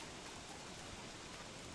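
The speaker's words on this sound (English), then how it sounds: "Tonight it's raining." Steady rain in the video game Don't Starve at night, a faint, even hiss of falling drops continuing without break.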